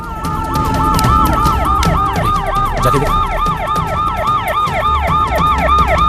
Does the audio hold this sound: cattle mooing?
no